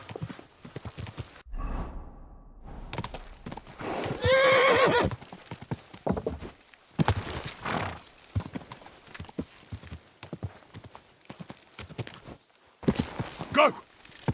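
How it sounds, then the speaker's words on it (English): A horse in the medieval game Kingdom Come: Deliverance II gives a loud whinnying neigh, and its hooves clip-clop in uneven bursts of steps around it, with pauses and other game sounds between. "Easy, good horse."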